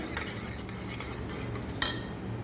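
A utensil whisks yogurt with rock salt and sugar in a bowl for dahi vada, a steady close scraping and swishing with a sharper clink of metal near the end.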